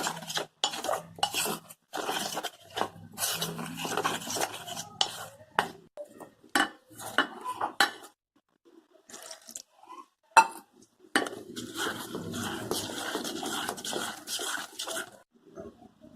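Cauliflower florets tossed with red chilli powder and garam masala in a bowl for Gobi 65, with repeated clattering and scraping of a utensil against the bowl in uneven bursts, close by and with no talk.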